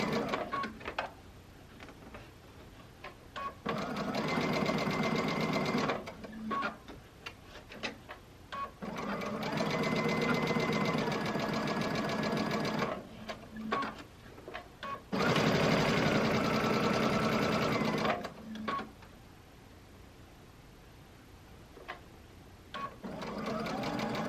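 Sewing machine stitching fabric panels, heard in three loud, close bursts of rapid mechanical whirring separated by quieter pauses filled with handling clicks.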